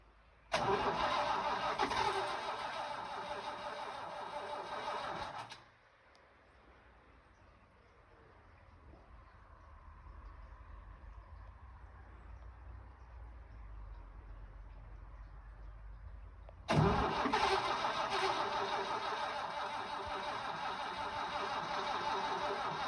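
A Case 1594 tractor engine, unstarted for at least 15 years, cranks and runs loudly for several seconds, drops to a low background hum, then bursts back into loud running for a second attempt.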